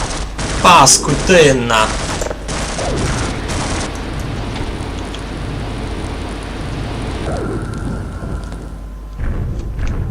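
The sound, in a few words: gunfire in the video game Half-Life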